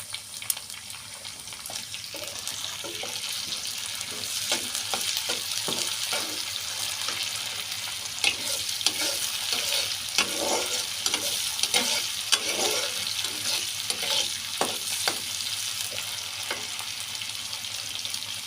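Hilsa fish pieces fry and sizzle steadily in a pan, with a continuous crackling hiss and occasional stirring clatter, close and fairly loud, no voices.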